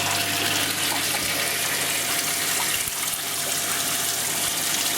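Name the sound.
water pouring into aquarium from canister filter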